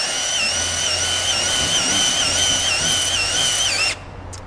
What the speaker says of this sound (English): what you do is you drill down in there